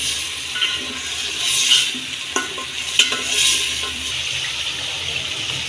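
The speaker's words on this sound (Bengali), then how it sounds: "কষানো মশলাগুলোর মধ্যে সবজিগুলো দিয়ে দিব" Vegetables such as potato, sweet pumpkin and long beans are stirred into fried, cooked-down spices in a pan, giving a steady close sizzle with scraping stirring strokes and a few clinks.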